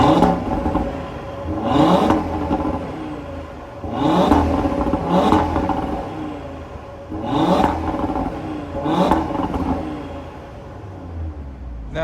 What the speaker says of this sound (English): just so you guys can get some revving